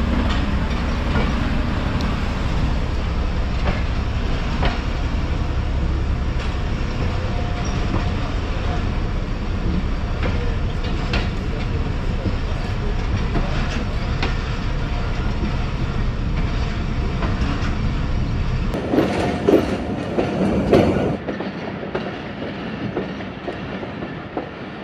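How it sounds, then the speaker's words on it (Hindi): The Sialkot Express passenger train departing Narowal railway station, with a loud steady rumble and rolling clatter of coaches heard from onboard, continuing for the whole stretch before shifting near the end, with faint talk beneath. "ट्रेन नारोवाल रेलवे स्टेशन से रवानगी के लिए तैयार"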